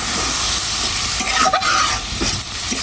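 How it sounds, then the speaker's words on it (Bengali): A spoon stirs onion, garlic and ginger paste with cumin, chili and coriander in a hot pan, giving a loud, constant sizzle with a few scraping strokes partway through. "পেঁয়াজ বাটা, রসুন বাটা, আদা বাটা, জিরা, মরিচ, ধনিয়া সব কিছু দিয়ে হালকা একটু এটাকে নাড়িয়ে দেবো।"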